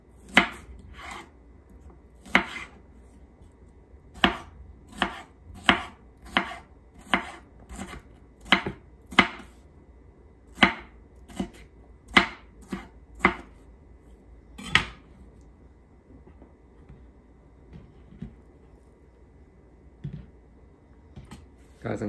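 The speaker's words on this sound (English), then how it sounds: "We'll cut this last piece up." A knife chops vegetables on a cutting board in a home kitchen, with sharp, distinct strokes in a steady run during the first fifteen seconds, followed by a few scattered knocks and near-silence.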